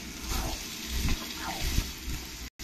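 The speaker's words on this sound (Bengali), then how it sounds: "এবার আমি জল দিয়ে দেবো। জল দিয়ে ভালো করে একবার নেড়ে দেবো।" Water goes into a pan of frying soybean and mushroom masala as it is stirred, a close sizzling hiss with scraping stirs, brief and steady before cutting out.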